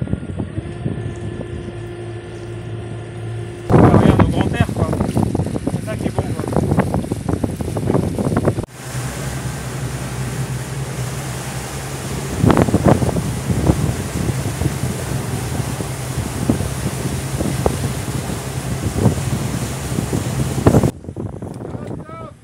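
Gusty wind rushes across the microphone on an open sailing boat running downwind off northern Australia, with water sloshing, low rumbling and occasional voices mixed in.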